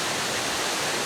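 Waterfall at Kaskaskia Canyon, with the main fall spilling in several directions and a smaller side fall, a loud, dense and steady roar of rushing water with no talking.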